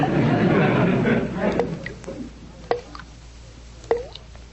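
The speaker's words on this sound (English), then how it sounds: "I'm sure the faucet is dripping" A few sharp, separate drips from a bathroom faucet plink into water after a stretch of soft background murmur, spaced irregularly and fairly close.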